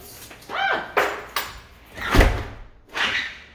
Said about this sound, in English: I stick this little Allen wrench in here and turn it until, yep, it's down.